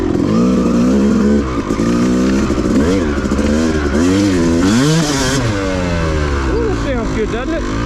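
A Yamaha YZ250 dirt bike on a wooded OHV trail, its engine revving hard and loud in rising and falling sweeps with steady throttle blips, close up and continuous throughout.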